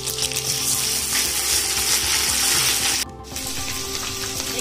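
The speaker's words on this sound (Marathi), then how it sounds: "तेल गरम झालेलं आहे, आपण 2 चमचे मोहरी घालायची आहे. 1-2 चमचे जिरे घालायची आहे" Mustard seeds and cumin hit hot oil in a large pot cooked in bulk, giving a dense, loud sizzle with fine crackling that drops suddenly partway through and then continues more quietly, with no voices.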